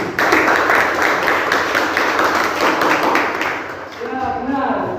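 Classroom applause breaks out: a dense burst of many hands clapping for several seconds, tapering off before speech resumes at the end.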